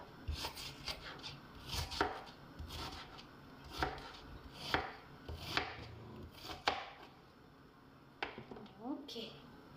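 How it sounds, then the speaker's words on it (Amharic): A knife chops onion on a board with quick, uneven knocks, close and fairly soft, coming in bursts over a muffled background, while someone talks. "ይሄንን ሽንኩርቱን ትንሽ ነው ያቀረበው አርጌ ከትፈውና ማለት ነው።"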